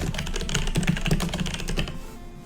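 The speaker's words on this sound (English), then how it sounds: "Sorry about the typing." Rapid clicking of keys on a computer keyboard, close and steady with dense irregular taps over a couple of seconds, easing off near the end, with no talk.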